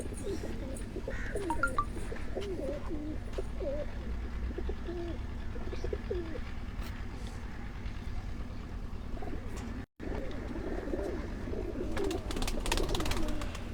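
Pigeons coo softly and repeatedly against a steady background hum, with occasional chirps, close by and continuing throughout.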